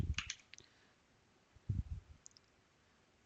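Keys clack on a computer keyboard while a FortiGate firewall VPN is set up, two small clusters of quiet taps with a soft thump-like press between them.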